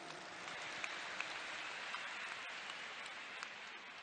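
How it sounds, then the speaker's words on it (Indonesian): Crowd applause at a large outdoor campaign rally, a distant, steady patter of clapping that continues throughout without voices over it. "Tepuk tangan untuk semua yang memilih hadir di sini"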